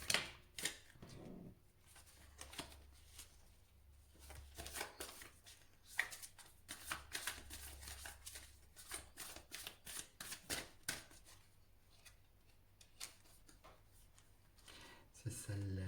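Tarot cards being shuffled and drawn on a table, a quick run of crisp, papery flicks and snaps, close and fairly quiet, under someone speaking French.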